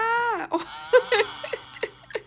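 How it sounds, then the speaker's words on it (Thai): An infant cries in a TV drama scene: a drawn-out wail followed by several short, choppy sobbing bursts, close and fairly clear, with no talk. "เสียงโวยวายของเขาก็คือเสียงร้องไห้ของเด็กนั่นเองค่ะ"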